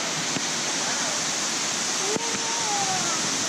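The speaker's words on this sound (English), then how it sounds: "So this is Laurel Waterfall" Laurel Falls, a waterfall at the top of a mile-long hike in a national park, roars as a steady broadband rush of falling water, close and continuous, with faint wind and handling noise.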